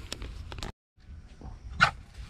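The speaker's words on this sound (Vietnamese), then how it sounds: "chó, chó của chú hả?" A dog barks a few times at moderate distance outdoors near a centuries-old stone tomb site in the mountains of Phú Yên, Vietnam, with a louder yelp near the end and background ambience between.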